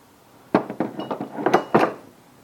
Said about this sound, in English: This is a nail puller bar.